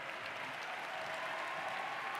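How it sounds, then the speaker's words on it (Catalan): Steady applause from a crowd at a university graduation ceremony, a dense, even wash of clapping at moderate level throughout the short stretch. "un fort aplaudiment, va!"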